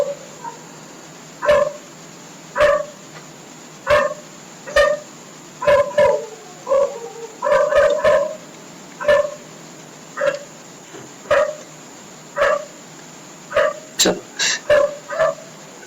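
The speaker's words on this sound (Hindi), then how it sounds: "sorry for the background noise, कुत्ते भी ना कभी कभी रात में पता नहीं क्या हो जाता है इनको" Several dogs bark outdoors at night in short, repeated bursts, some closer and some farther off, with a few yips and whimpers mixed in and a steady high electrical whine running underneath.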